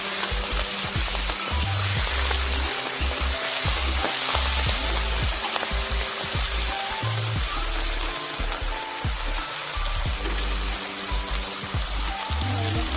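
Malabar spinach and shrimp fry in oil in a pan, with a dense, continuous crackling sizzle and bursts of spattering oil, loud and close, with no voices.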